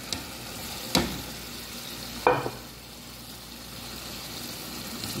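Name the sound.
onions frying in a pan with liver and soy sauce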